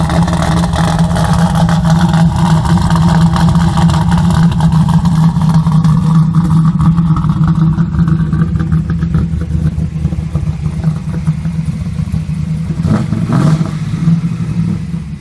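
A Pontiac Trans Am's V8 runs loud and close with a deep, steady rumble. Its revs swell and hold, then briefly rise again near the end with a throaty burst.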